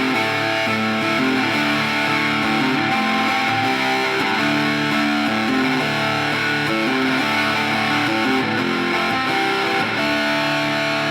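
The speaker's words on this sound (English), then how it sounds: "We have a Mojo Hand Effects Colossus. It's kind of distortion, kind of fuzz." An electric guitar plays a riff through a Mojo Hand Effects Colossus fuzz pedal, its thick distorted and sustained notes shifting steadily for several seconds, loud and alone without voices.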